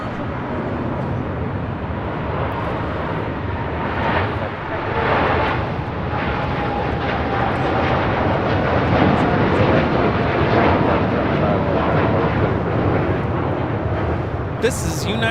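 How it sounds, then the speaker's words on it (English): United Airlines Boeing 787-10 Dreamliner taking off from LAX bound for Tokyo Narita, a loud, sustained jet roar that swells and holds for about fifteen seconds, close and dominant with no talk over it. "This is United Airlines Flight 32 taking off to Tokyo Narita on a 787-10 Dreamliner."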